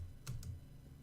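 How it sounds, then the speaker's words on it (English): A few quick keystrokes on a computer keyboard while entering code, two light clicks close together with no talking. "let's type in post for now"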